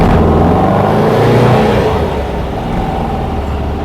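A 1971 VW Squareback with a clutch shudder pulls away in first gear, its engine a loud, steady, close rumbling drone with slight wavering across the few seconds.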